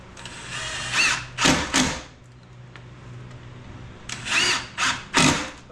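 A cordless power drill drives 2-inch screws into a wooden Adirondack chair in two bursts of short, whirring pulls with a quiet pause between, close up and loud in a workshop.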